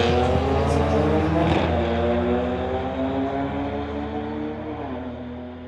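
A 2009 BMW accelerates hard down a drag strip at a street-legal drag racing event, its loud engine note climbing steadily through the gears and slowly fading as the car pulls away.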